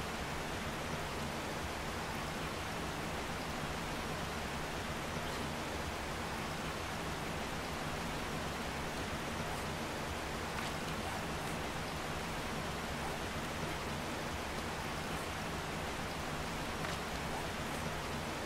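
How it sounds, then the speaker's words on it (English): Rain in a burning forest biome in the video game 7 Days to Die, a steady, uniform hiss of falling rain that stays constant and fairly faint throughout, with no voices. "Well, I'd say it might just be hot rain then."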